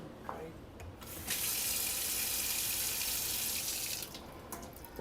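Hot water runs from a tap into a pan during a tomato canning class, a steady hissing gush that starts abruptly, holds for about three seconds and then stops, heard close and alone.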